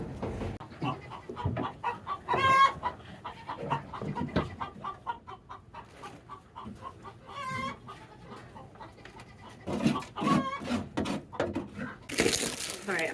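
A hen in a backyard chicken coop clucks and squawks in agitated bursts, loud and close, with a person talking between the calls.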